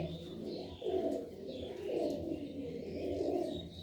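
Pigeons in Arman's Kartarpur loft coo softly and overlap one another in a faint, continuous murmur, with no talking.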